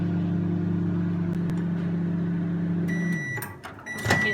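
A microwave oven hums with a steady low drone while heating a chocolate mug cake, then stops and gives a few high beeps near the end.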